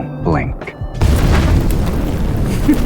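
Fireworks bursting in a music hall in the video game Love and Deepspace, with a deep boom erupting after a brief stretch of speech and then a sustained, loud crackling rumble.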